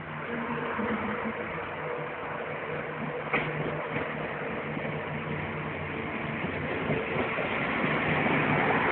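Scotrail train in new livery passing nearby on a Scottish railway line, a continuous rumbling roar of engine and wheels that holds steady and swells slightly toward the end, with no voices.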